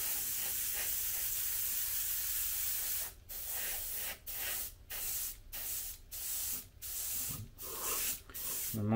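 An airbrush sprays paint onto the body of a Super Baja Rey 2.0 RC car. It gives a steady close hiss, then a run of short regular bursts with brief gaps between them.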